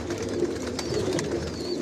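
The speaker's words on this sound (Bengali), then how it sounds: "এগুলো সব বিদেশি কবুতর" Foreign-bred racer pigeons in a loft coo in low, repeating throaty phrases, several birds overlapping steadily and close by, with no talk.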